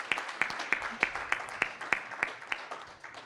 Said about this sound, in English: You can give a round of applause.